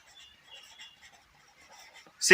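Pen or marker scratching across a board or paper while a chemical compound name is written out, soft intermittent strokes followed by a louder brief scrape at the end.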